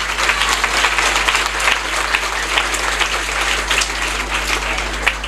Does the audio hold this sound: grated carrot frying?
no